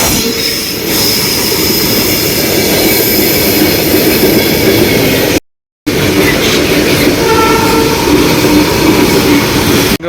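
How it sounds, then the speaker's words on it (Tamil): A train rumbles past close by, loud and continuous, with wheels squealing and clattering on the rails. "இங்கே ஒரு ட்ரெயின் வருது இதை பாருங்கள்"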